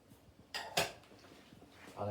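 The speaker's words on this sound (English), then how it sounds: "And also I'm going to add in the tin of chopped tomatoes." Chopped tomatoes from a tin tipped into a soup pot while making minestrone: a couple of quiet metallic clanks and a soft plop against the pot, brief and close.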